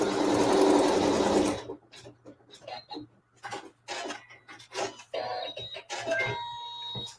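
A sewing machine runs a quilt seam in a loud, steady close burst of about a second and a half, then stops, followed by light handling clicks and rustles.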